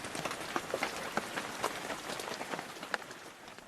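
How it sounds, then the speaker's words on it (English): Rain falling outdoors in England, a soft steady patter with scattered sharper drip impacts, fairly faint and close, with no voices. "The rain mirrors Shamima's recent tears for her family"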